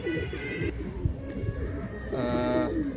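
Pigeons coo softly in Amit Chakraborty's loft in Behala, giving low, murmuring calls against a muffled, busy background with faint voices.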